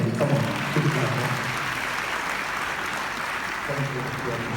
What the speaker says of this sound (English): Keep clapping. Come on.